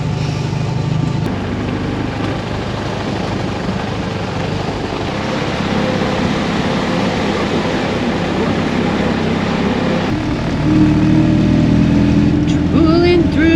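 A small Fiat car idles and rolls along on a day in Tuscany with its defroster fan running, giving a steady broadband engine-and-blower rumble that holds throughout and swells slightly toward the end, with faint voices underneath.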